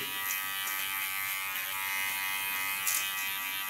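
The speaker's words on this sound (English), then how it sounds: "most girls like the tinkling of the clipper" Electric hair clipper buzzing steadily while cutting a girl's hair in a salon-style cut and color session, a continuous close whirring hum with slight variations as it moves through the hair.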